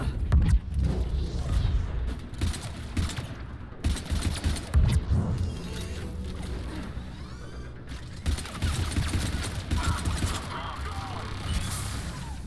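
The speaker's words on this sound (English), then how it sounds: "I can hear a turret" A turret in Mass Effect 3 fires in rapid bursts of gunfire and heavy impacts amid dense combat noise, with a voice heard briefly over the din.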